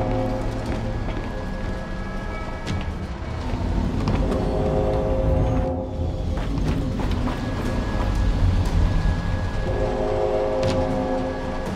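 A rocket in Gears 5 being ridden toward a launch pad gives a steady, loud mechanical rumble and drone, with metallic clanks and a brief dip before the engine roar swells again. No voices are heard.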